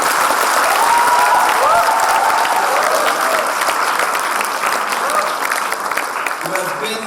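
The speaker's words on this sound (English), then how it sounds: "can we have a huge round of applause for the entire VIBGYOR team?" Dense audience applause at a school Model United Nations closing ceremony, loud and steady throughout, with a few voices and cheers mixed into the clapping crowd.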